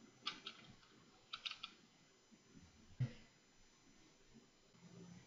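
A computer keyboard being typed on during a name entry: a few quiet, scattered bursts of light key clicks with pauses between them, close by and soft.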